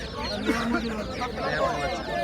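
Chickens and chicks at a busy bird market in Bangladesh, clucks and cheeps mixed into crowd chatter, with people talking close by.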